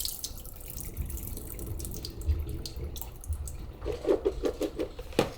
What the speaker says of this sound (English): we're just going to pour off the water